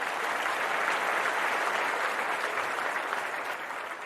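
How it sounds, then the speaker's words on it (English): Steady applause from a crowd, dense and sustained clapping throughout at fairly close range, easing slightly toward the end with no voices standing out. "I said, Ryan, let me give him some applause first of all."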